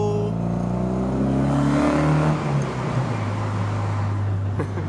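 A car with an open differential revs hard while drifting, its engine note rising and then falling into a loud, steady drone close by, with some tire and road roar underneath.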